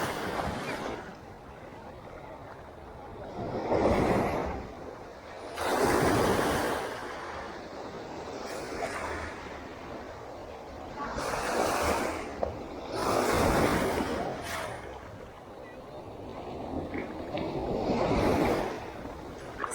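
Ocean waves surge onto a beach shore in repeated swelling rushes of surf every few seconds, loud and near under steady wind noise on the microphone.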